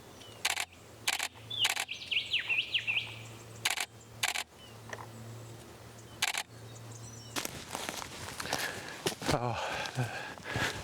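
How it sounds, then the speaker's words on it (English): A grey shrike-thrush calls in Australian eucalypt bush, its faint whistled phrases briefly in the background between sharp, repeated camera shutter clicks, with rustling footsteps later on. "There's a grey shrike-thursh over here."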